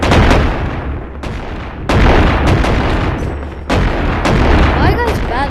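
Loud, booming shotgun blasts in the VR game Animal Company, several heavy shots spaced a second or two apart, with players' voices chattering between them.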